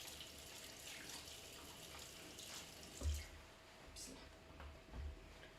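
Water runs from a kitchen tap for rinsing during pastry making, a soft steady hiss with a couple of low splashes and clunks, faint and close.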